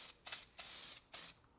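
Aerosol scanning spray applied in short hissing bursts onto an Audi B9 S4 part, three quick sprays with brief pauses between, close and fairly quiet.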